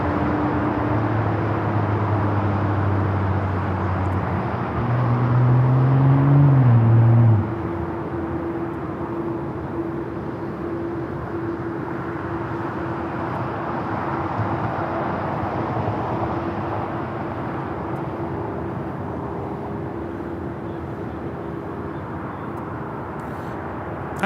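An American Airlines Boeing 737-800 takes off at Los Angeles LAX, a broad, steady jet roar with a low rumble swelling briefly early on, then a sustained even engine noise through the rest.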